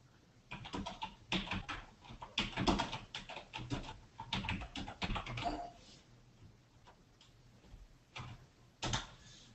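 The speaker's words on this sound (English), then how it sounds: "Next is start typing the program here." Fast typing on a computer keyboard while entering a SAS program, with dense bursts of close key clatter, short pauses between runs, and a final burst near the end.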